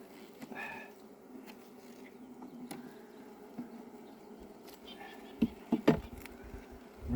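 Italian honey bees in an opened hive make a low, steady buzzing hum that runs throughout, with a few louder knocks and scrapes near the end as the frames are handled.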